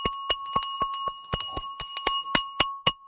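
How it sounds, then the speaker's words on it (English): Hand bell rung at market open on a live stock trading stream, a rapid series of about a dozen bright metallic strikes with a sustained ringing tone, close and loud, alone without talk. "The bell is back"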